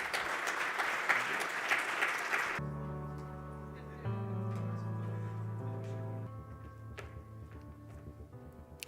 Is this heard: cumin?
no